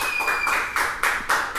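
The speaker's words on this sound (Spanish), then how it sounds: "Le damos un aplauso, por favor, a nuestro invitado." A studio audience claps for a guest on a Spanish-language political talk show, a short even round of hand claps pulsing in regular waves with no voices.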